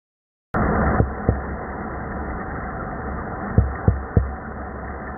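A drum fish recorded underwater gives a few dull knocks like a heartbeat, sparse thumps over a steady muffled hiss.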